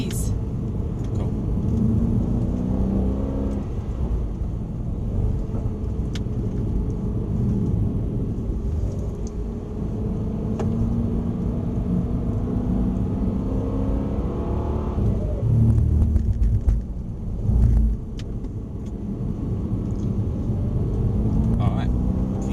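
A Mercedes-Benz car accelerating through corners on a track, a low engine drone that rises and falls under steady conversation between occupants.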